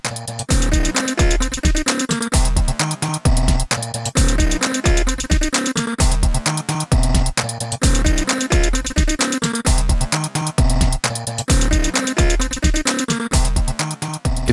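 Full drum beat programmed on a Maschine MK3 groove box using the Pulsework expansion kit, with steady punchy kicks, snappy hits and layered melodic elements playing loud and continuous for the whole stretch, no voices.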